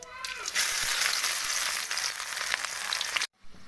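Onion, garlic and green chili hit hot oil with cumin in a pan, giving a loud, steady, close sizzle that fills most of the moment before cutting off abruptly near the end.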